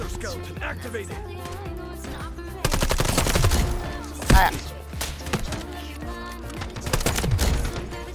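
Gunfire in the shooter game Delta Force, using gold ammo, sounds as loud rapid bursts of automatic shots after a quieter opening stretch, with a heavy blast midway and faint voices underneath.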